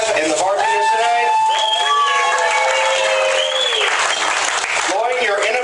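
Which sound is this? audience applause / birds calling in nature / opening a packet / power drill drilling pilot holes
audience applause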